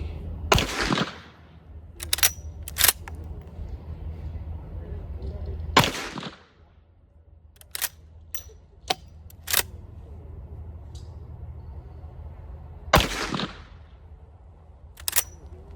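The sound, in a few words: gunshots at a shooting range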